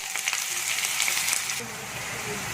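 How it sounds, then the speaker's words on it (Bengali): Chopped onions go into hot oil after bay leaf and spices and fry with a dense, steady hiss, lightly stirred, close and loud with no voices. "সেই পেঁয়াজ কুচিটা দিয়ে দিচ্ছি তেলের মধ্যে"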